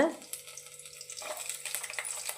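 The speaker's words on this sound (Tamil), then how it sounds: "பத்து பூண்டு பல்ல போட்டு இதை அப்படியே கொஞ்சம் நேரம் எண்ணெயில் வேகட்டும்" Garlic cloves frying in oil in a pan while cooking a greens and brinjal chutney, a bright crackling sizzle that starts after a brief clatter and continues with small pops.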